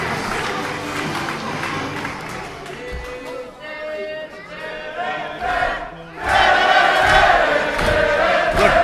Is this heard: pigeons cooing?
no